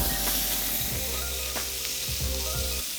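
Pork leg sizzles hard as it sears on an oiled grill grate, a loud, continuous frying hiss close up with a few faint stirring or shifting noises.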